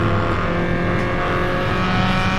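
A car engine driving in Assetto Corsa, a steady loud drone with continuous engine hum and no clear speech over it.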